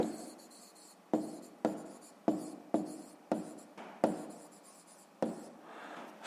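Pen scratching out a sixth-grade math exercise on paper, a series of about eight close strokes arriving in uneven bursts, each one a sharp scratch that tails off, with no talking.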